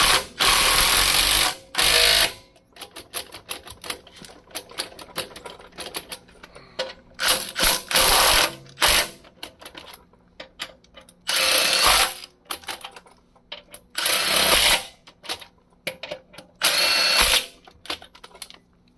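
A ratchet tightens bolts during a brake job on a 2003 Dodge Ram, sounding in several loud bursts of rapid clicking separated by short pauses and quieter single clicks, close up with no talking.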